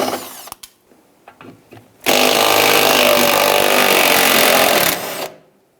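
An impact tool spins off the 11mm nuts on a 1999-2004 Jeep Grand Cherokee gas tank, loud and close, running steadily for about three seconds after a few scattered clicks and knocks.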